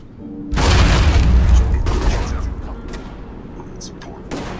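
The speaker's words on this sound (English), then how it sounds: "Grenade." A grenade explodes in the shooter game Alpha Protocol as a sudden loud, close boom that rumbles and slowly decays, with scattered clatter and a brief voice afterward.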